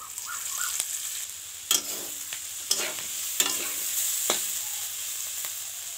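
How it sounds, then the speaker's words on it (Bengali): A vegetable fry of beans and potatoes being stirred in hot oil after chili powder is added, a constant sizzle with several distinct scraping strokes and spoon clicks spaced a second or so apart. "এবার পরিমাণ মতো লঙ্কার গুঁড়ো দিয়ে দেবো, দিয়ে নাড়াচাড়া করবো।"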